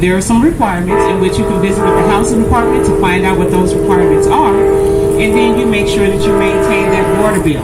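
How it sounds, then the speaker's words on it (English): A train passes near a tenant meeting with the mayor, its sustained horn-like tones droning loudly beneath a person speaking throughout. "Excuse the train in the background."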